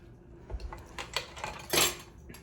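A whisk clinks against a bowl while Greek egg lemon soup is beaten, a short run of light metallic taps and scrapes, close and fairly quiet.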